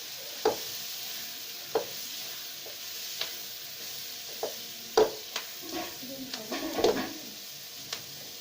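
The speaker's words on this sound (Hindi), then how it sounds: "इधर प्याज को हम थोड़ा सा लाइटली ब्राउन करेंगे" Onions browning in a pan for an Afghan village-style aloo baingan, a steady soft sizzle running throughout, punctuated by scattered clinks and stirring scrapes, with a brief cluster of louder clatter near the end.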